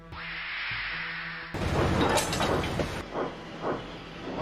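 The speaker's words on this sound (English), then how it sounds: "That sounds like a steam engine." Steam engine hissing in a railway yard, a loud broad rush of steam bursting in after a quieter low mechanical hum, with a few softer puffs and clanks trailing off near the end.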